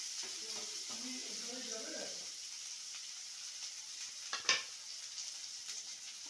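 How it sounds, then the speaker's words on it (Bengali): Chopped onion and garlic fry toward a reddish color for a papaya dish with lentil dumplings. The sizzle is faint and low, with a soft voice briefly underneath and a light stir knock near the end. "দিয়ে পেঁয়াজটা আমি বেশ লাল লাল করে ভেজে নেব।"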